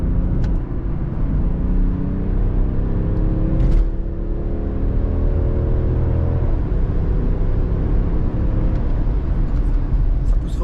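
Cabin of an Alpina XD4 G02 quad-turbo diesel pulling hard up to about 80 km/h, a loud low engine roar rising in pitch through gear changes, with faint turbo whir and a brief voice in the background.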